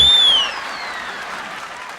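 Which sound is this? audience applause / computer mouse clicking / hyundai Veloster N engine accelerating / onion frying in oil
audience applause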